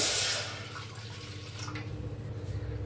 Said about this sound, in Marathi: त्याच्यात ओतूया एक वाटी पाणी